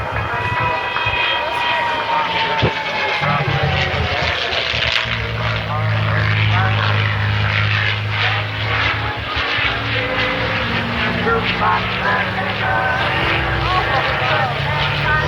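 A North American P-51D Mustang flies past at the 2014 Portrush Airshow, its propeller engine droning loudly and steadily while the pitch sweeps during the pass, with voices speaking over it.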